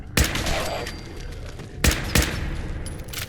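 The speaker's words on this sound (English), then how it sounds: "Good shooting, Caite." Gunfire in the Fallout 4 video game: two or three sharp, loud shots spaced apart, each with a short echoing tail over a low background rumble.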